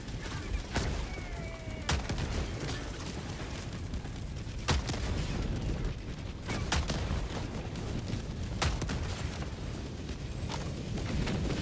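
Recoilless rifle shots boom in Helldivers 2 as a player fires at a dropship, several sharp heavy blasts spaced a few seconds apart over a dense rumbling backdrop of battle noise.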